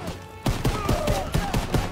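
Rapid bursts of rifle and machine-gun fire in a World War II shooter campaign battle, repeated sharp shots in quick rhythm over a noisy combat background.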